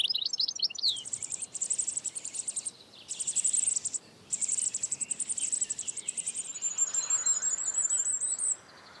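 A songbird sings in repeated bursts of rapid, high trilling phrases, clear and fairly close, with short pauses between and a thin whistled note at the end.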